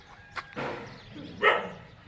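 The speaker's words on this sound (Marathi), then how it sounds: "अपूर्व आली पळत पळत माझ्याकडे म्हणायला लागली इकडे लहान कुत काहीतरी कुत्रे आहेत इथे शेजारी" Small puppies near a village school yap in a few short, high barks, close by and fairly faint against quiet surroundings.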